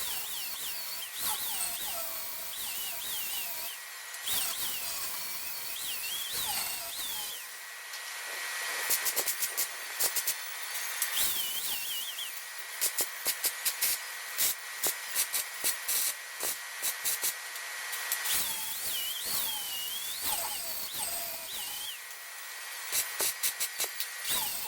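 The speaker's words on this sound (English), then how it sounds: "Now we'll sand them flat." A power sander grinds welds flat on an aluminum boat hull, a loud continuous hissing whir that keeps cutting in and out in short bursts across the clip.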